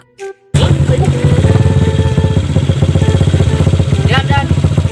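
A motorcycle engine idles close by with a loud, steady, rapid low chugging pulse that starts abruptly after a brief moment and continues evenly, with a faint voice underneath.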